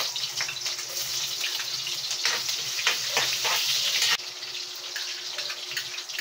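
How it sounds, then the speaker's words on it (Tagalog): Onions sizzle in hot oil in a pan, a dense, steady crackling hiss close by with small bursts of spattering, briefly dipping a little in loudness partway through. "Say, mainit na siya. Ilagay na natin itong sibuyas."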